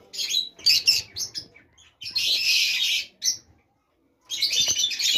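Pet lovebirds and cockatiels, including grey, cinnamon and lutino pairs, chirp and squawk in repeated bursts close by, with short quiet gaps between the busy, high-pitched calls.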